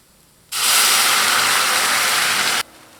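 Liquid mixture poured into a pan of roasted coconut while making wheat flour kozhukattai, giving a loud, steady broadband sizzle that starts abruptly and holds for about two seconds before cutting off.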